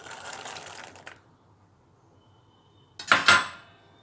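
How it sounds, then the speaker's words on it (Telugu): Raw, unboiled chickpeas tumble into a cooking pot with a brief, sharp rattling clatter after a moment of near quiet, preceded by a fainter scraping rustle. "ఇక్కడ పచ్చి శనగలు వేస్తున్నాను"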